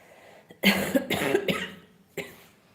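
A person coughs several times in a rough, hacking series up close, followed by one final cough after a short pause.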